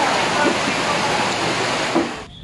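Steady light drizzle falling outdoors in Tagaytay, a continuous soft hiss of rain that breaks off near the end.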